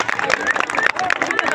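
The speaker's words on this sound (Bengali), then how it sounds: "জোরে হাততালি, ওদের উৎসাহ দিন।" At a school annual sports day prize giving, a crowd applauds: a brief burst of scattered clapping mixed with cheering and chatter from many people, fairly close.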